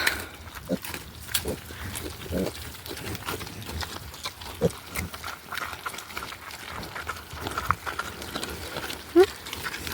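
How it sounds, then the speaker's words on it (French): Pig grunts and short squeals, including a piglet's, come in scattered bursts over a noisy, rustling background, fairly close, with some animal movement around. "Puis qu'est-ce que ça crie un cochon."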